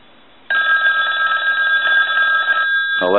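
A Northern Telecom rotary desk telephone's bell, set to its low ringing setting, starts abruptly and rings in one continuous loud metallic burst for about two seconds before cutting off with a brief clatter.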